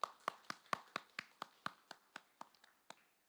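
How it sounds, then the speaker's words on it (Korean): A church congregation claps in blessing for the wives, a run of about fourteen sharp, distinct claps at a steady, slightly slowing pace, close and clear with no talk, ending in silence. "박수로 한 번 더 축복하겠습니다"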